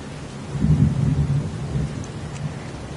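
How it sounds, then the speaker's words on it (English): Pouring rain and rumbling thunder in a PS4 video game, a dense steady hiss of rainfall with a low swell of thunder, heard alone without voices. "It's pouring rain."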